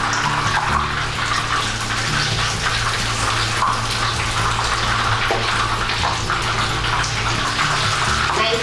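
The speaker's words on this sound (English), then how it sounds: "And fry them for 1 minute on each side." Breaded ham and egg katsu fries in hot oil, a loud, dense, continuous sizzling hiss that holds steady close by throughout with no talking.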